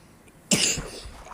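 A single sharp, loud cough from someone ill with a fever, bursting out of near silence and trailing off quickly, with no talking around it.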